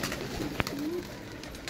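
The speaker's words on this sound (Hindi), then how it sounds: "एक कबूतर आए जनाब बाहर आए" A pigeon on a rooftop gives a single short, soft coo, faint and close, beside a brief click against a quiet background.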